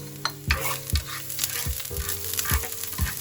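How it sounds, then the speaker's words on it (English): Ginger and garlic sautéing in oil for lo mein, a continuous close sizzle punctuated by regular thumps and scrapes of a spatula stirring the pan, no voices. "Now on a same oil, we will add ginger and garlic."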